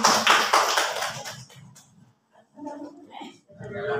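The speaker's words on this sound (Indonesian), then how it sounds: "Mungkin tepuk tangan." An audience at a school training session on positive classroom culture claps in a brief burst that fades after about a second and a half, followed by quiet and then someone talking.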